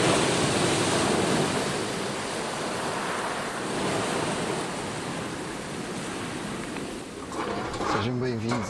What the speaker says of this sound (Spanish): observar muy de cerca la fuerza de las olas rompiendo contra las rocas